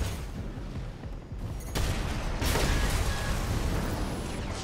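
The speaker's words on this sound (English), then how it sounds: "Coming out with the machine guns." Machine guns on a mech in Armored Core 6 fire in a dense, continuous rattling fusillade that swells and grows louder partway through, mixed with heavy mechanical game effects.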